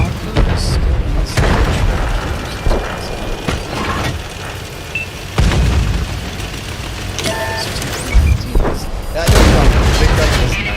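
Heavy tank cannon shots boom loudly in a World of Tanks console battle, several deep blasts spread across the stretch with mechanical clatter and engine rumble between them, while a voice talks over the action.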